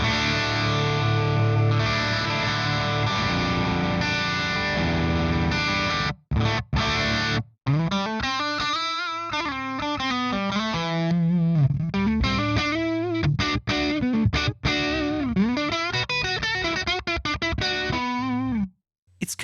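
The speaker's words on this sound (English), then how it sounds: "This is how the real amp sounds." An electric guitar played through a real tube amplifier with crunchy, saturated distortion rings out in chords and sliding single-note lines, with a few brief gaps between phrases.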